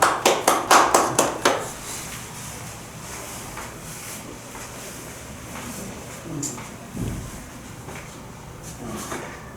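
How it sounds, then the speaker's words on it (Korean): A church congregation claps together after a worship service ends, opening with a burst of rhythmic, fairly loud unison claps over about two seconds, then fading into quiet room murmur with a few faint scattered sounds. "하나님께 영광의 박수 올려드립니다."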